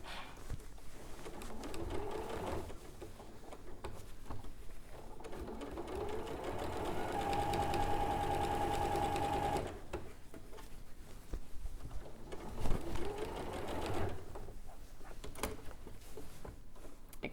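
A sewing machine understitches a garment seam, running in steady close whirring bursts with brief pauses between runs as the fabric is repositioned.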